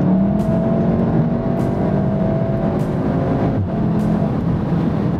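A Volkswagen Golf 7 R pulls hard up a small hill, its engine note rising steadily in a sustained, loud drone heard from inside the cabin, with no talk over it.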